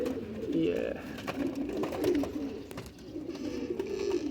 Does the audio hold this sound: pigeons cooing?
yes